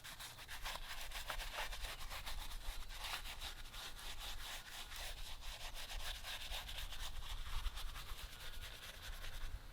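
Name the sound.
scrubbing a car tire with tire cleaner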